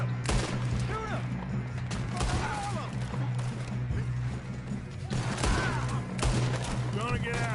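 Gunfire in the Red Dead Redemption western video game, repeated sharp shots and cracks with scattered voice fragments over a steady low game hum, fairly loud and continuous.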